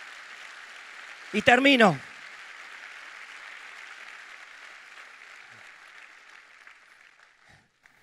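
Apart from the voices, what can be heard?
congregation applauding in church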